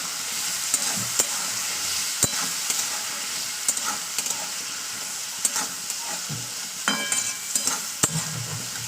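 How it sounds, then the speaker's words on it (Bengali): Peas with turmeric fry in oil as a spoon stirs them, a continuous close sizzle broken by sharp clinks and scrapes of the utensil against the pan. "এবার আমি মটরগুলোকে তেলের উপরে ভালো করে ভেজে নেবো"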